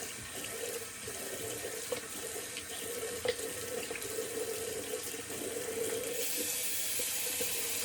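A faucet runs steadily into a sink as hair is rinsed off a Zomchí double edge safety razor, a continuous close rush of water with small splashes and no talk.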